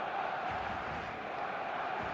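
A dense eFootball stadium crowd roaring steadily in a broad, continuous wash of cheering and chanting, distant and even with no breaks.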